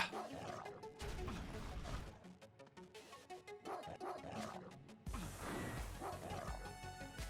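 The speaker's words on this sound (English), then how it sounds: "Doggy on fire." Yelping and barking from a burning dog in The Mummy Demastered video game, a few sharp cries that rise above dense game music and effects, ending with a louder noisy stretch.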